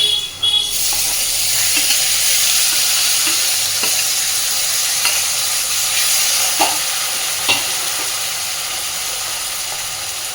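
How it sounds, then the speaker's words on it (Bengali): Ginger paste hitting hot oil in a home kitchen pan produces a loud, steady hissing sizzle that holds throughout, with faint stirring clicks scattered over it and no talk. "এবার দিচ্ছি আদা বাটা।"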